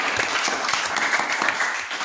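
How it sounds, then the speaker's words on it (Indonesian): Classroom applause for a group of students after they present their discussion, a short burst of many hands clapping at moderate loudness, fading slightly at the end. "Tepuk tangan untuk kelompok."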